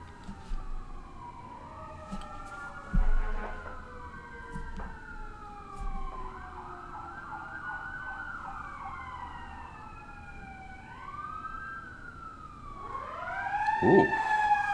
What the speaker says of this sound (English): I believe I hear sirens, so apologies for that.